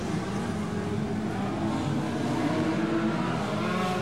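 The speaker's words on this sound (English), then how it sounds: "Tony Stewart from Rushville, Indiana is your leader in that 6P car" A 1994 USAC midget race car engine roars around the dirt oval at Limaland, a continuous loud mechanical drone holding steady for several seconds with no commentary over it.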